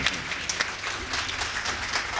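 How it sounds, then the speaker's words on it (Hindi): A crowd at a Hindi comedy poetry gathering breaks into dense, continuous clapping, many hands blending into an even wash of applause at steady moderate volume with no voices over it. "आपकी तालियां मेरी थकान मिटाएगी। एक बार जरा बजा दो"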